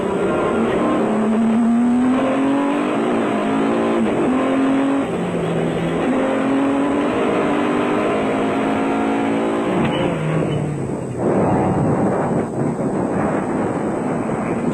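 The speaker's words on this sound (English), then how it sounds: "Hannes Grobler and Richard Leek continued carving their way through the field in the proudly South African Nissan hardbody" A Nissan Hardbody off-road race truck charges through an off-road race in South Africa, its engine droning loud and steady with shifting pitch and wind buffeting the microphone throughout.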